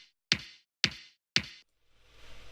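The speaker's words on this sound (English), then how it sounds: "A sample kick that's just doing the high." Three evenly spaced hits of a high, clicky sampled kick drum with no low end play alone and close, each with a short decay, then faint noise follows.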